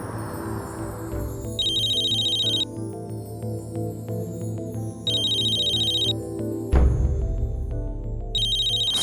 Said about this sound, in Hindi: मैं जिग्नेश को फोन करती हूँ।